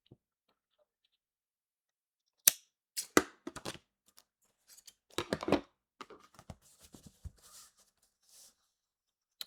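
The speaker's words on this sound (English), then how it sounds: "I'm just going to trim this off." Material being trimmed in a crafting session, with a series of sharp snips, rustles and scraping clicks in irregular bursts, close up with no talking.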